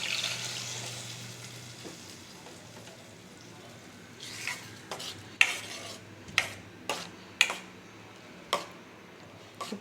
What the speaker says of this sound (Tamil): இப்போ அரைச்சி வச்ச தக்காளியை எடுத்து உள்ளே ஊற்றிடலாம்.